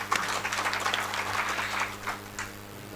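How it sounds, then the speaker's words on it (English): An audience at a technology panel discussion at a Kerala entrepreneurship conference applauds a speaker, a steady patter of clapping hands that continues for a few seconds and then thins out near the end, with no one talking over it. "A round of applause to Sridhar Prasad."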